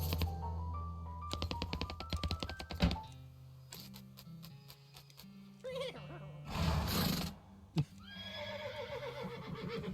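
A horse whinnies in a synthetic, game-like tone in the video game West of Loathing, amid clattering hooves and chiming effects, with a few sharp bursts rising above a low hum.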